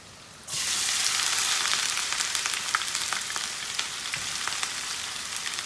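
Two medium onions drop into a hot pan with garlic for a chicken curry, erupting into a loud, steady sizzle with scattered crackles after a short quiet start.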